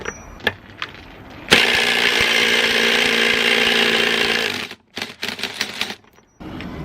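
A power tool, likely an impact wrench, shoots a 34mm nut off a Honda CR-V rear differential: a loud close burst of rapid hammering lasting about three seconds, then several short stuttering bursts.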